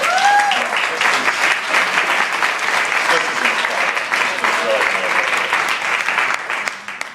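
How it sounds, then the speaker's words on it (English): A crowd claps in a big round of applause at an evening comedy show, sustained and fairly loud throughout with some cheering and voices mixed in, tapering off near the end. "I would like to give a huge round of applause to the whole Clark School staff."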